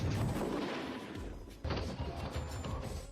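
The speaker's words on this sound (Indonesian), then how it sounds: "melemparkan bom peledak ke pintu besi." Explosive bomb blast against an iron door in a film action scene, heard as loud booming, crashing impacts with a heavy thump midway and rumbling aftermath, amid drone gunfire.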